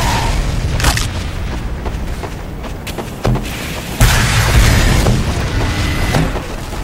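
Rocket blasts in Team Fortress 2, loud booming explosions landing close, a couple of sharp hits followed by a heavy burst and rumbling aftermath amid game noise.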